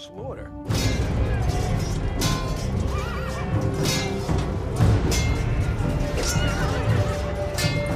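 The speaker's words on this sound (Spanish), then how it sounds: "el relincho de dolor de un caballo" A horse neighs and whinnies loudly and repeatedly in pain amid a chaotic, noisy ancient battle scene with crashes and hoof clatter.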